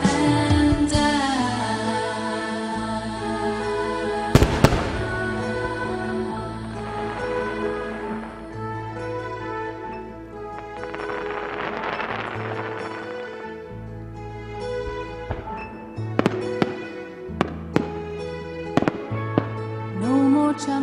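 New Year 2014 fireworks burst in scattered sharp cracks and booms, a few early and a quicker cluster near the end, mostly heard under loud pop music with singing.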